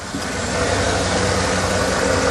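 A Cadillac's engine runs steadily at idle, a loud, continuous rumble with no talk, heard close up throughout.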